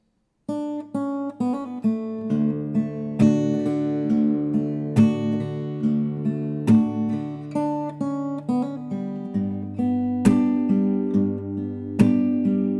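An acoustic guitar plays two riffs from a song back to back, a steady pattern of bass notes, chord strums and sharp percussive slaps, close-up and unaccompanied.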